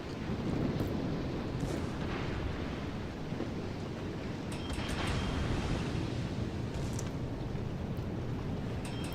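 Roaring, rumbling noise of a burning warship in World of Warships, a dense continuous wash of low crackle and roar with faint clicks, loud and steady throughout.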